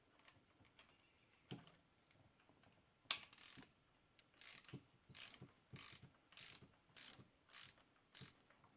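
Ratchet turning a spark plug into a Dodge Ram 1500 5.7L Hemi engine: after a few faint clicks, a close, crisp series of about eight evenly spaced rattling bursts of pawl clicks, one every half-second or so, with no talk.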